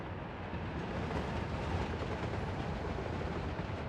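A train runs in the city-building game Workers & Resources: Soviet Republic, producing a dense, continuous rumbling roar that stays loud and even from start to finish, with no voices.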